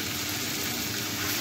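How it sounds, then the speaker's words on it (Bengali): Greens (saag) with green chillies fry in a pan while being stirred, a steady broadband sizzle held evenly and close throughout. "এখন ভালো করে শাকটাকে নেড়ে চেড়ে দেওয়া হবে"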